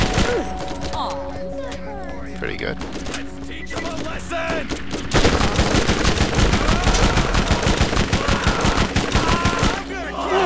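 Bone Shredder gun in Borderlands fires a sustained rapid burst of loud automatic shots, preceded by quieter game ambience and a brief spoken comment.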